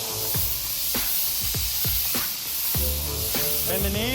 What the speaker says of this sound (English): when you pull the trigger, Yep. you pull the first phase air and you pull it back more, then there's the spray, there's the paint that comes out.